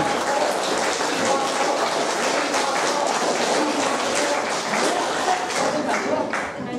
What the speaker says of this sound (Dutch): Een hartelijk applaus.